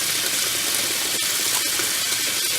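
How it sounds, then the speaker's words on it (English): Tap water runs steadily into a sink being filled to wash farm fresh eggs, a continuous broad hissing splash close by with no talk over it. "So while the water's filling up"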